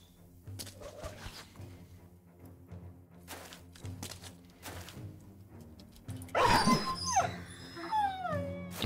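Dogs in the video game Battle Brothers bark, whimper and howl, the calls growing louder and more frantic toward the end over a low, steady game backdrop.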